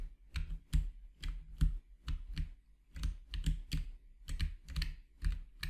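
Computer keyboard keys tapped in quick irregular bursts to steer a player in a Pygame game with the W, A, S and D keys, close and clear with no voices.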